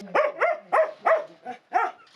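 A dog barks in a steady series of about six short, fairly close barks with brief gaps between them, heard alone.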